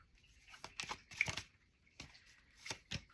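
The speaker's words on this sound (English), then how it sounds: "Let me shuffle." Tarot cards being shuffled by hand, a few quick crisp riffles and slides in short bursts with pauses between, close and fairly quiet.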